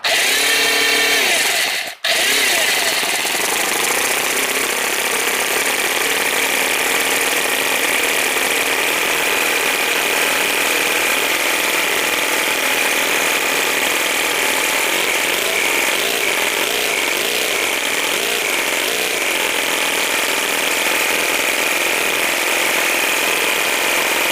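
A four-cylinder V400 four-stroke nitro RC engine running rich indoors, a loud, sustained high-pitched buzzing drone with a brief dropout near the start, then steady and unbroken.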